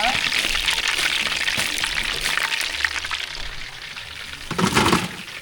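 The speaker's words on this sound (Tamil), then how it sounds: "பிரியாணிக்கு தேவையான அளவுக்கு வெந்நீர் சேர்த்துக்கலாம்" Hot water pours into a pot of chicken biryani with a steady rushing splash, a continuous watery wash that swells briefly near the end while a voice talks over it.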